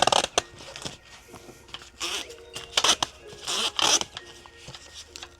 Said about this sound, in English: I don't know what the world's up with this zipper.